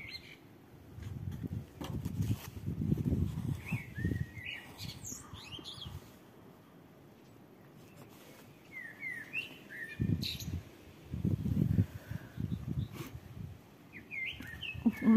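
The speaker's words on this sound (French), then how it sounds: "on n'écoute que les oiseaux." Several birds chirp and call in short bursts outdoors, faint and scattered, over a low rumbling background with bursts of louder low noise.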